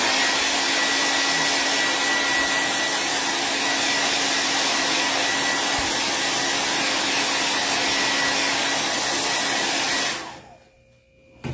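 A hair dryer blowing on chalk paste spread over a frame. Its steady, loud whirring hum runs unbroken for about ten seconds, then cuts off abruptly into near silence.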